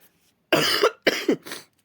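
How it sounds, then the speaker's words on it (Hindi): A person coughs three times in quick succession during a Hindi current affairs lesson, each cough harsh, loud and close against near silence. "थोड़ा खांसी की वजह से आप लोगों को प्रॉब्लम हो रही है"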